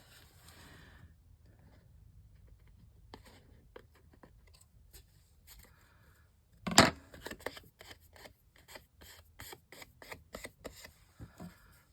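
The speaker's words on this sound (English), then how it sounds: "Let me get my other scissors out." Scissors snip through paper for a hydrangea journal, a quiet stretch followed by a sharp cut and then a run of quick, close clipping strokes.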